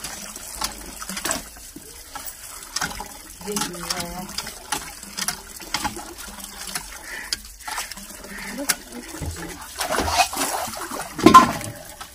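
Freshly picked vegetables of white, purple and yellow kinds being washed under running water in a village home, with intermittent splashing and trickling, handling clatter and a louder gush toward the end.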